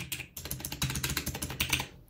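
Rapid typing on a mechanical keyboard with blue switches, its sharp clicky keystrokes landing in a dense, quick, close-up patter that stops briefly at the start and end.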